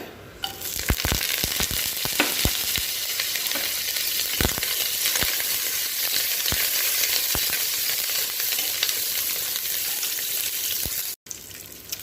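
Curry leaves hitting hot oil for egg kulambu burst into a loud, dense sizzle that holds steady and close, dotted with sharp crackles and pops, then cuts off abruptly near the end.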